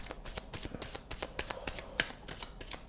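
Tarot cards drawn and handled from a deck, a rapid run of crisp papery flicks and snaps repeating close by for a few seconds, with no voices.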